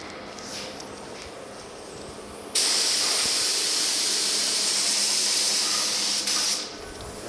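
A spray gun lays clear coat onto the bed, tailgate and running boards of a 1950 Chevy truck. A loud, steady hiss starts abruptly partway through and runs for about four seconds before cutting off, with quieter shop background before it.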